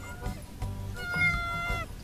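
Cat meowing several times in a vegetable garden where a rooster is kept, the calls fairly close and drawn out, with low rumbling background sounds and some other noise between them.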